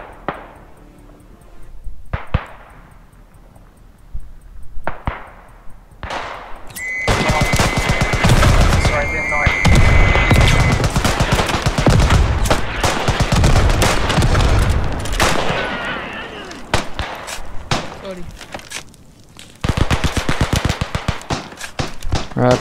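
Gunfire in the World War I shooter Beyond The Wire on the Chateau-Thierry map: a few scattered early shots, then loud sustained bursts of rifle and machine-gun fire crackling nonstop for many seconds before tapering off and resuming.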